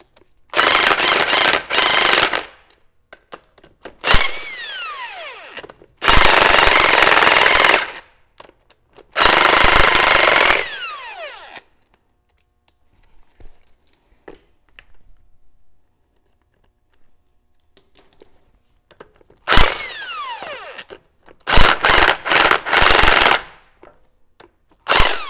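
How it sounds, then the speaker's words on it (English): An impact wrench hammers loose over-tightened, silicone-sealed CV axle bolts on a 100 Series Land Cruiser / LX470, firing in about seven loud, close bursts of one to two seconds each, with a long quiet pause in the middle. "Okay, I'm gonna grab my bigger impact."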